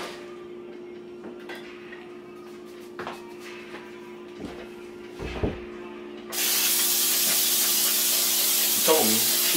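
A low steady hum with a few soft clicks, then a loud continuous hiss of an aerosol spray starts suddenly and holds steady to the end.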